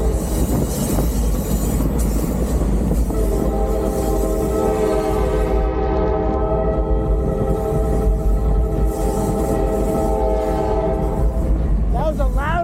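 Freight train rolling past up close, its horn blaring in sustained harmonic blasts over a steady heavy rumble of wheels and cars, loud throughout.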